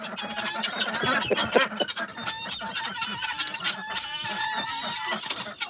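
Khaki Campbell ducks quack loudly and insistently up close, a busy overlapping chorus of honking calls that keeps going for the whole stretch as a flock waits to be let out of its pen.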